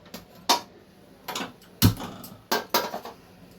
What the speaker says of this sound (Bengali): গ্যাসটা জ্বালিয়ে দিয়েছি।